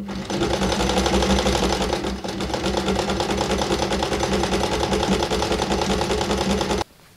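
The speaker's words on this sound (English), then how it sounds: "we're going to top stitch it down and then split this part open" A sewing machine topstitches a gown seam in a loud, steady rapid whir with a brief pause partway, then stops abruptly near the end, with no voices.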